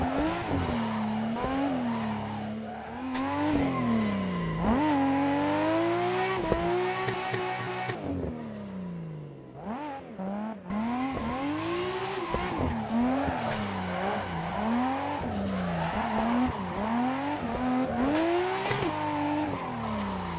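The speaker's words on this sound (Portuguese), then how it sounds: "E também que o ronco desse carro é lindo" A 701-horsepower Fast and Furious-style Nissan Skyline drifts in the racing game Assetto Corsa, its loud engine roaring and revving continuously over squealing tires, with one brief lift midway before the roar resumes.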